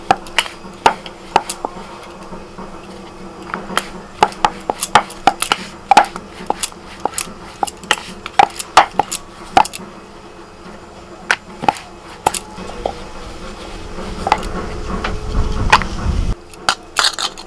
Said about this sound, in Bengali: রুটির মতো করে বেলে নিচ্ছি।